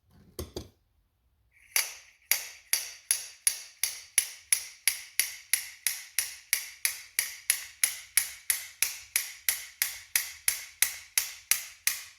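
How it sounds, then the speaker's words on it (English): A slide hammer strikes repeatedly while pulling a part from a John Deere G tractor's DLTX 24 carburetor: a steady run of sharp metallic clacks, roughly two per second, close and loud, with no talk. "Then I have this slide hammer, which usually does a really good job of pulling that out."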